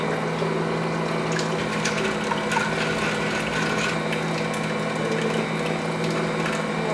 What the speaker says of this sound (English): I have never put this much flour in the mixer before.